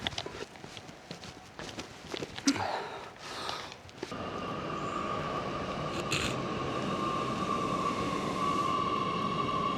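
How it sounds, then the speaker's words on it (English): Riding a subway and then an airport express train in the dark: footsteps and clatter for the first few seconds, then a steady close rumble of the moving carriage with a sustained whine running throughout. "So I'm just going to take the subway and then the airport express train."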